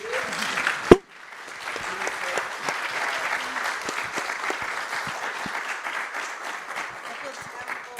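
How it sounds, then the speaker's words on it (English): After a brief burst of voices, an audience breaks into sustained applause, a thick even patter of many hands clapping indoors. "can we get a round of applause for the panel?"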